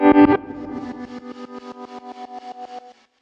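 A Saturn hybrid piano sample played through LFO modulation: a loud attack, then a sustained note that pulses in rapid, even throbs and fades out over about three seconds.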